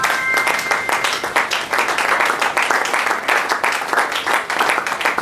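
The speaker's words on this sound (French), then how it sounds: "Acclamons Jésus." A church congregation applauding to acclaim Jesus, a dense and loud burst of many hands clapping together, sustained steadily with a few voices mixed in.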